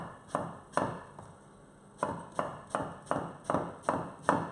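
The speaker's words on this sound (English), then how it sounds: "And then we're just going to chop that into maybe 1 centimeter slices." A knife chops an aubergine into roughly one-centimetre slices on a cutting board, about nine crisp, evenly spaced knife strikes heard up close with a short pause partway through.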